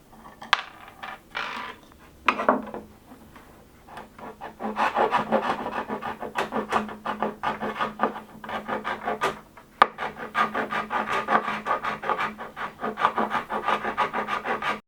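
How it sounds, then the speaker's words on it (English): A small hand scraper rasps old glue from a wooden pie-crust table leg in repeated quick strokes, a dry, gritty scratching that pauses briefly before settling into a steady, close, rhythmic scraping. "I used a small scraper to remove all the remnants of the glue."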